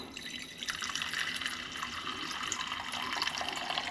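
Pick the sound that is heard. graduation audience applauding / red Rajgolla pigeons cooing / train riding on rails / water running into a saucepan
water running into a saucepan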